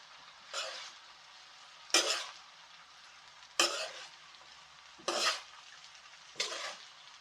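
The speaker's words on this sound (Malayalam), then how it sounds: "ഇനി നമുക്കിത് നന്നായിട്ടൊന്ന് മിക്സ് ചെയ്തെടുക്കാം അല്ലേ" Egg fried rice is stirred and tossed in a pan, giving five separate scraping, rustling strokes at roughly even intervals over a faint background sizzle. Each stroke is fairly close and brief, with no talking.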